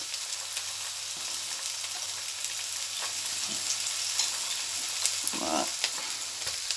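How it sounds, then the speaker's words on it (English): Chopped ginger, onion and garlic sautéing in a pan, a dense continuous sizzle with occasional soft stirring scrapes and a brief clunk near the end, close and steady with no talking. "we're going to saute this for a few minutes until the onion is softened"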